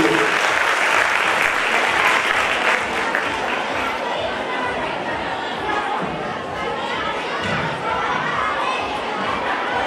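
Loud, sustained applause from an audience at a school function honouring talented children, dense clapping filling ten seconds with crowd chatter and children's shouts mixed in.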